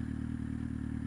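A motorcycle engine runs steadily close by with a low, even, throbbing drone. No clear rise in revs is heard across the brief stretch, and no one speaks.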